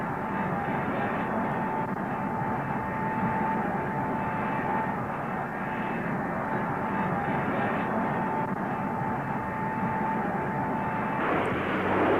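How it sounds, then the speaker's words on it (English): A modified North American B-45 bomber carrying an experimental jet engine in a nacelle under its belly, flying in 1955, a loud steady roar of aircraft engines with a droning hum, continuous and unbroken. "This historic film shows the modified B-45 taking to the air on May 20th, 1955."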